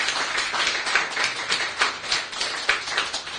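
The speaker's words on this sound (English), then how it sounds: "I think he deserves another round of applause." Audience applause for a panel speaker at a livestreamed prostate cancer awareness discussion, steady, fairly close clapping from a sizable crowd, sustained evenly throughout without talk.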